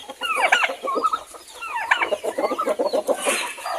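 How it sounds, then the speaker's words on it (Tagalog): Several chickens cluck close by in quick, overlapping bursts, a busy run of short chattering calls. "Ayan, yung mga manok natin."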